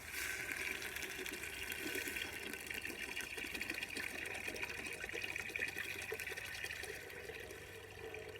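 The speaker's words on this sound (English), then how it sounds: "you're going to add your clam juice" Clam juice poured into a pot of sautéing onions and celery for New England clam chowder, a steady liquid rush mixed with faint sizzling, close and continuous with no talk.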